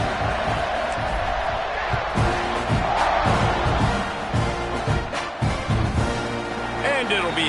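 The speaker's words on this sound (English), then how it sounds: "You think this crowd's going to get loud when their defense comes on the field?" A college football stadium crowd at a Texas A&M versus Baylor game roars steadily and loudly around a kickoff, a dense, continuous wall of cheering and shouting with scattered thumps and whoops.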